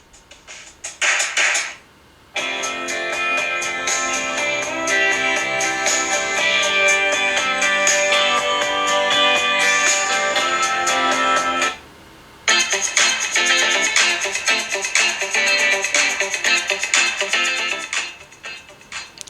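Music played through the bottom speaker of a Samsung Galaxy S7 Edge phone: a thin, bright full-band track with a brief opening burst, a steady loud stretch, a short drop near the middle, then more music until the end.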